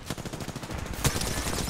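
Rapid gunfire in an online shooter video game at a LAN party, a quick stuttering burst of shots followed by one louder crack, sharp and close.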